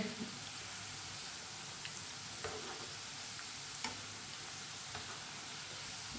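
Potato fries frying in a pan of oil, a steady broadband sizzle with a few faint scrapes and taps as they are turned over, continuous and fairly quiet throughout.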